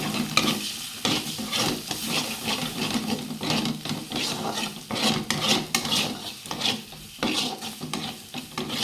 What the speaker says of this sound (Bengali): ডিমটা ভাজবো।